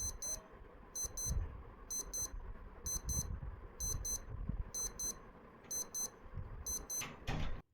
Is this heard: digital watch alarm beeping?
yes